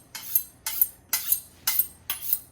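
A sharp knife cuts through rolled cinnamon bun dough in five even, close strokes, each a soft scraping swish about half a second apart, with no voices.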